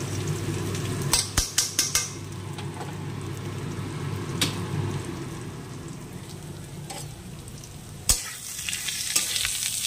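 Marinated rice frying in hot oil with bay leaves and whole spices in a pan, a steady close sizzle broken by a few sharp clinks of a utensil against the pan.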